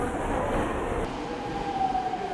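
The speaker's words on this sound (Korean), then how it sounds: "전동차가 들어오자 바로 몸을 싣는 가족들" A subway train arrives at a station on the Seoul metro, a loud steady rumble and rolling roar with a brief high whine that cuts off and a rising tone near the end, with no talking.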